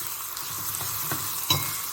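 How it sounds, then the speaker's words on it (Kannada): Chana dal pieces for holige cut sambar frying in hot oil, a soft continuous sizzle with a few brief stirring scrapes, the last one slightly sharper. "ಎಣ್ಣೆಯಲ್ಲಿ ಸ್ವಲ್ಪ ಹೊತ್ತು ಫ್ರೈ ಮಾಡಬೇಕು"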